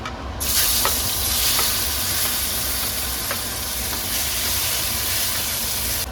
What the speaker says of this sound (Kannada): ಇವಾಗ ಇದ್ರೊಳಗಡೆ ನಾನು ಟೊಮೆಟೊನ ಹಾಕೊಳ್ತಾ ಇದ್ದೀನಿ